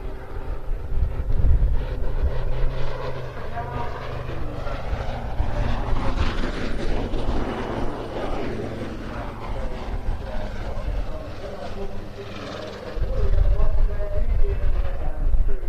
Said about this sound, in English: Final pass from the Wildcat now, something of a wing rock, albeit no wings on this aircraft of course.